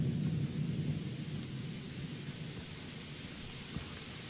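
Thunder rolls in a stormy scene of the survival horror game Unforgiving: A Northern Hymn, a low rumble fading under steady rain-like hiss, with a faint click near the end.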